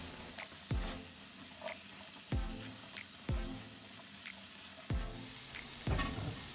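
Mushrooms sizzling in a hot pan alongside other ingredients as dinner cooks, a steady frying hiss punctuated by about seven soft thuds and stirring scrapes at roughly one-second intervals.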